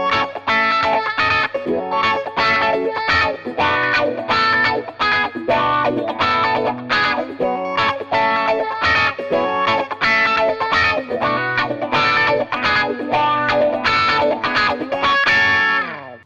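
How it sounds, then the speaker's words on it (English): An electric guitar plays through a Dunlop Cry Baby Junior wah pedal set to its low range mode, with distorted riffs whose tone sweeps and quacks as the pedal rocks, loud, steady and rhythmic, with no talking. "So here's how the wah sounds in the low range mode."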